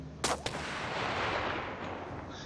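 A gunshot cracks twice in quick succession in the war-survival game This War of Mine, followed by a long, loud rumbling echo that fills the rest of the moment. No one speaks.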